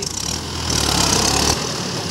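A Mahindra 575 DI SP Plus tractor engine runs steadily and loudly with a rough, droning tone that swells briefly midway, with no voices.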